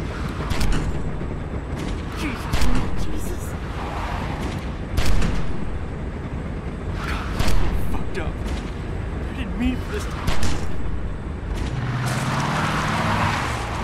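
Sharp gunshots in The Walking Dead video game, several loud scattered bangs over a noisy rumbling background with a tense, busy scene and people talking around them.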